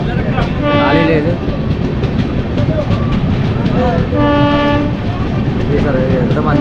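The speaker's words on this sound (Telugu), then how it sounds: "అయోధ్యకి వెళ్తుంది అనమాట ట్రైన్, కుంభమేళ ట్రైను" A crowded Kumbh Mela train bound for Ayodhya rumbles loudly past at close range, its horn blaring in two long blasts over the constant rattle of the carriages.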